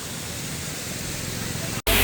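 A stream at Charmadi Ghat flows downhill on a low-water day, making a steady broadband rush of moving water heard close and even for almost two seconds, then a brief dropout before it resumes.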